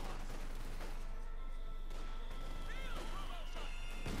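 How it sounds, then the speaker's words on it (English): Obersoldaten light machine gun fire in Company of Heroes 2, a dense, continuous clatter of gunfire with crashes mixed in, steady and loud for about four seconds amid battle noise. "The Obersoldaten there with the light machine gun is able to lay down a murderous barrage of bullets expertly"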